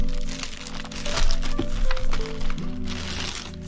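A plastic bag crinkles loudly and close by as an inner bag is handled during unpacking, with bursts of crackling and rustling.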